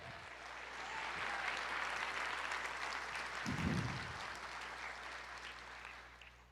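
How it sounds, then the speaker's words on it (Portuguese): Church congregation applauding during a sermon, a moderate, continuous spread of clapping heard at some distance, with a low steady hum beneath and a brief muffled thump midway. "Aplauda o Senhor, diga eu creio."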